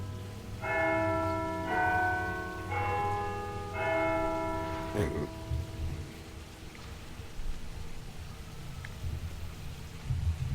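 Four steady strokes of a church bell ring out over steady rain, then a sharp close knock or thud follows and the rest fades into rain and distant rumble, no voices.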